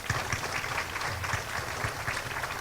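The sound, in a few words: audience applause for an award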